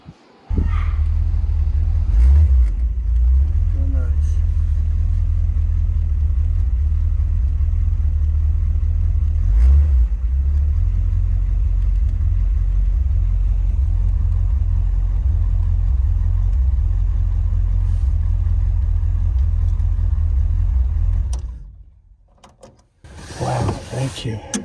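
Restored 1928 Ford Model A engine running at a steady low rumble for about twenty seconds with occasional clunks, then cutting off before some brief noise and voices at the end.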